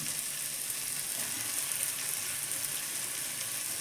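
Tender bottle gourd greens and young stems fry in a pan of oil for a vegetarian dal. A steady, even sizzle runs close throughout at moderate loudness, with no stirring bursts or voices.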